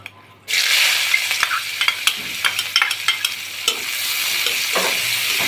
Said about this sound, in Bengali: পেঁয়াজগুলি কিছুটা ভাজা ভাজা করে গরম করে নিব।